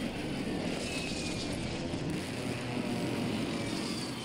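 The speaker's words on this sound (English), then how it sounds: "Hostile bomb drone is active." A hostile bomb drone in the Warzone 3 game buzzes overhead with a continuous droning, propeller-like whir, fairly faint and steady throughout, with no speech.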